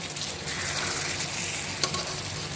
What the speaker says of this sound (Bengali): দেখেন আমার মাছটা পুরাই কষে গেছে, কষানো হয়ে গেছে, আর একটু লেগেও গেছে।